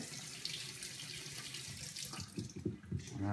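Lukewarm tap water runs steadily into a sink for rinsing newly hatched python hatchlings, a close hiss that shifts into splashing and sputtering toward the end.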